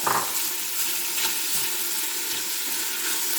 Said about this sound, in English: and in goes the sausage